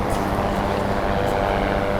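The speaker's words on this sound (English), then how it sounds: "There's a helicopter." A helicopter passes overhead on a beach after Hurricane Ian at New Smyrna, a steady low rotor and engine drone filling the scene with wind, continuous and moderately loud throughout.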